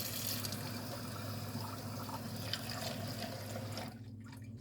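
Water is rinsed around inside a shake container, a soft continuous trickle and drip over a steady low hum, fading toward the end.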